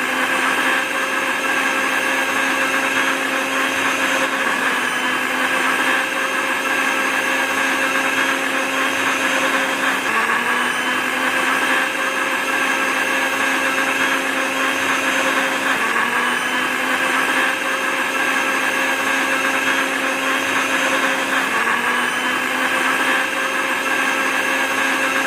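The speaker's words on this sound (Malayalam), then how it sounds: "ഇനി നമുക്കിത് ശരിക്കും അടിച്ചെടുക്കാം മിക്സിയിൽ" A mixer grinder whirs steadily while blending a mango shake with cardamom, a loud, unbroken motor whine with a slight pitch dip every few seconds as the load shifts, and no one speaking.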